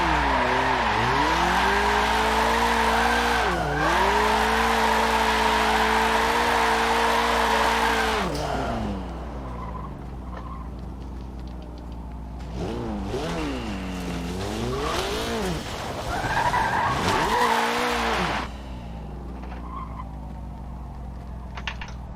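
Tires squeal loudly and continuously as a car drifts in a racing video game, with a revving engine rising and falling under long skids, a quieter stretch midway, then another sustained slide.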